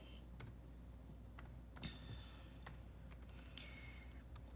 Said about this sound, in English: So I'm gonna type in K Doyle